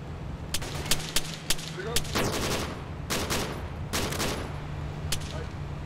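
Gunfire in the military shooter Arma 3, a string of loud sharp shots in irregular bursts over a constant vehicle engine drone, with occasional voices underneath.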